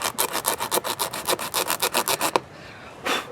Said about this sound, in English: Here's our reamer tool, and we're just going to use it in and out